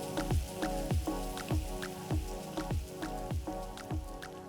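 Cream cheese stirred into a bowl with lemon, a spoon striking and scraping in a steady, regular rhythm of wet, squishy strokes roughly twice a second, close and clear with no talking.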